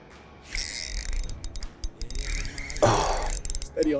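Fishing reel drag ratcheting out as a pike takes a soft plastic lure on a river, a loud continuous mechanical clicking run with rough surges and brief breaks.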